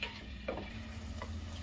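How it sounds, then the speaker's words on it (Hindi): Spoon stirring yogurt into a pot of soya and pea pulao: soft scraping strokes and light clinks over a low simmering hum, close and quiet, with no talking. "दही डालने के बाद इसे चलाना होता है"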